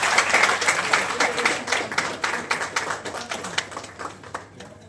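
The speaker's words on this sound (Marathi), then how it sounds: "जोरदार टाळ्या वाजवा" An audience at a Marathi game show in Satara claps for a prize winner, a moderately loud crowd of steady overlapping handclaps that slowly thins toward the end, with some voices mixed in.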